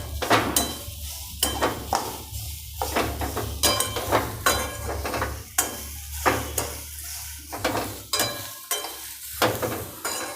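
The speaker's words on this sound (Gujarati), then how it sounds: "ને ગેસ ફાસ્ટ ગેસે જ આને શેકવાનું ને ફટાફટ આમ હલાવતું રહેવાનું નકર નીચે ચોટી જાય" A sugar mixture roasts over a high flame while a spoon scrapes the pan in quick, regular strokes, each stroke a loud close scrape over a low sizzle and steady burner rumble.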